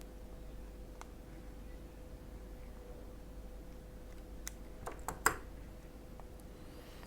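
Scissors snip around a leaf shape traced on a thin sheet of candle wax while making a hyacinth candle, giving a few faint, close clicks over quiet room hiss.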